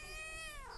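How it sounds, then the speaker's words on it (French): A cat meows once in a drawn-out, falling cry, close and clear, while a dog moves about nearby in a quiet indoor room. "Voilà, le chat, le chien qui se font des câlins."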